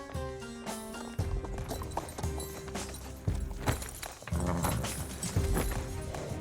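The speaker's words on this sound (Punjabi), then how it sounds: "ਘੋੜਾ ਲੈ ਕੇ ਆਓ।" A horse being led in a Punjabi period film scene clip-clops in steady, heavy hoof thuds about once a second over a sustained musical backdrop.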